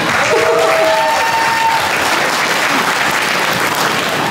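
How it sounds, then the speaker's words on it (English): Sustained audience applause fills a convention panel hall at an anime and gaming con in London, steady and loud for several seconds, with a few faint voices in the crowd. "More applause for this guy."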